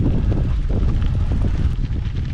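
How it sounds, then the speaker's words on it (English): Gusty wind of around 30 mph on a mountain road pounds the microphone with a constant loud low roar and buffeting, close and unbroken, with no speech. "It's really windy today."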